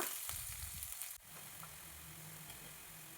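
Curry leaves sautéing in hot oil make a soft, even hiss with a brief clatter near the start, then a quieter steady sizzle.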